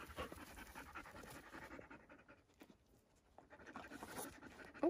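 A dog pants rapidly and close by on a mountain lake backpacking trip in Montana, with a steady rhythm that pauses briefly and then resumes, with no talking over it.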